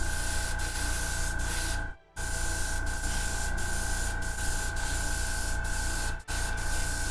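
An airbrush sprays paint onto a Tyranid miniature in a long, continuous airy hiss with a steady whine running through it. The spray cuts out briefly twice, then resumes at the same close, even level.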